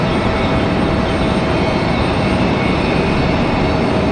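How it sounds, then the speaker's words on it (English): An American Airlines jet airliner bound for Charlotte rolls past at Raleigh Durham International Airport, its engines a loud, steady broadband roar with no voices. "There goes our American 1894, I believe, coming down the hill headed to Charlotte"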